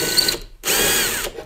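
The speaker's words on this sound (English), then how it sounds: "I just put the drill and wiggled it around like that" A power drill whirs in two bursts with a short pause between, as the bit is wiggled around in a drywall hole to widen it, close and fairly loud.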